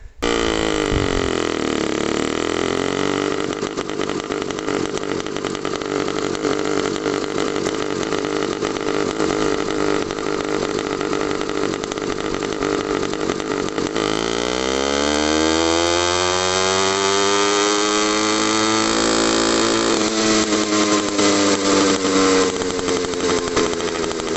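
An 80cc motorized bicycle engine runs with no air filter, no muffler cap and a port-matched exhaust manifold, giving a loud, raw, continuous buzz whose revs sag and climb again near the end, with no talking.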